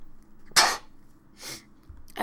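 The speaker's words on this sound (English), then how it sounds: "I sneezed." One person sneezes sharply at close range, a single loud burst followed by a softer second one over a quiet room background.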